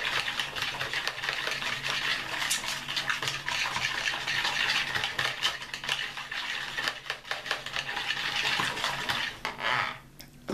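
Grapeseed oil is stirred into a herbal powder mix of neem, brahmi, tulsi and kapoor kachli, a continuous close scraping and clinking of a spoon against a bowl that stops near the end.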